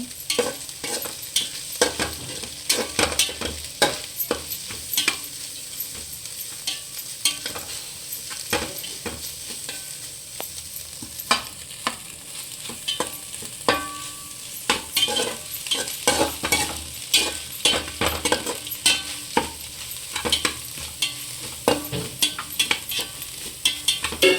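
Egg frying in a pan for egg fried rice, with a constant close sizzle broken by frequent scraping and tapping of a spatula as it is stirred, steady throughout with no talk.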